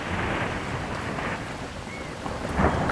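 Heavy rain pours steadily with wind and low rolling thunder, the roar swelling louder near the end.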